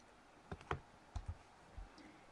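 A few sharp computer mouse clicks spread over about two seconds, quiet and close, while working in Excel 2016 with nothing else in the background.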